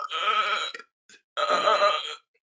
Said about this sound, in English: a burp is coming.